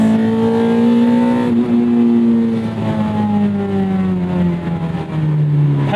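A 2001 Toyota MR2 Spyder with a swapped 2ZZ engine revs hard from inside the cabin, a loud, steady engine note that climbs, dips briefly between gears and pulls again, with no voices over it.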